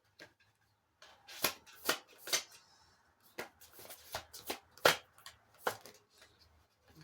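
Tarot cards are shuffled by hand at close range in quiet surroundings, giving a series of crisp riffling and slapping bursts with short pauses between them.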